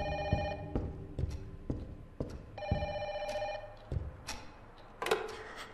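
An old-style telephone bell rings in the game Don't Be Afraid, several bursts of ringing separated by short pauses, fairly loud against a quiet indoor backdrop with soft knocks and creaks.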